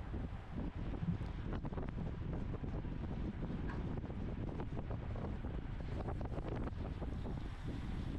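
Steady roaring wind buffets a bike-mounted camera riding directly into a headwind during a men's 50/55 criterium race, a loud, unbroken rumble lasting throughout with faint mechanical rattles beneath.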